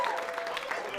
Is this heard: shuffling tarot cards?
no